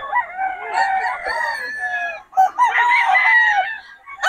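Young gamecock stags crow at a poultry market in Bocaue, giving two loud, close, drawn-out crows one after another, with some clucking between them.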